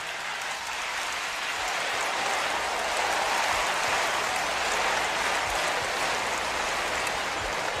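An audience gives a sustained round of applause for Christian teachers during a sermon. The clapping is a dense, even wash that swells slightly and holds steady to the end.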